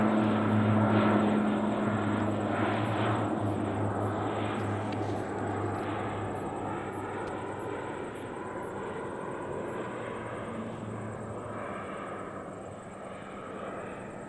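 Low-flying agricultural plane passing overhead, a steady droning propeller engine roar that is loudest at the start and slowly fades as it moves away.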